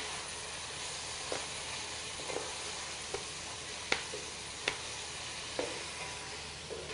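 Chopped tomatoes and green chillies hitting a hot pan for kaddu ka salan, a soft continuous sizzle broken by a few sharp spoon taps, fairly quiet, with no talking.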